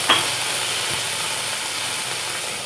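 A whole tomato dropped into a hot pan of oil sets off a steady, fairly loud hiss of sizzling that holds evenly throughout, with a brief clatter at the start and another right at the end.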